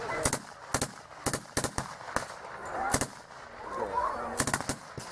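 Gunfire strikes a German tank during a military battle reenactment at a military vehicle rally in Toruń, with sharp bursts of shots cracking out in irregular groups over a rumbling, noisy outdoor background.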